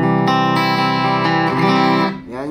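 Enya Nexg 2 smart guitar played through its built-in speaker with distortion effects, several loud strummed chords ringing close and sustained, the last one fading and cut short.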